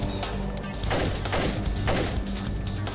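A turret fires during a slaughterhouse level of the Splinter Cell video game, with a couple of short bursts of dull thumping gunfire over a steady background of game ambience.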